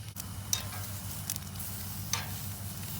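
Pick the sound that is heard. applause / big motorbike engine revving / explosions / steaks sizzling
steaks sizzling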